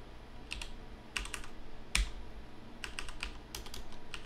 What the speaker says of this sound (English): type out something.